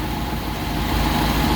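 A Ford truck idles steadily after an engine swap, a close, even low rumble with no talking.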